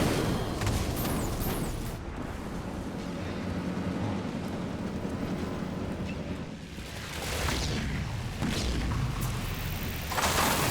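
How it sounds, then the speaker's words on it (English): A grenadier's grenade explosion in the real-time strategy game Halo Wars 2, heard as dense, loud booming battle noise with repeated blasts and rumbling impacts throughout a busy 2v2 match. "The elite just took a huge beating there by the grenadier explosion"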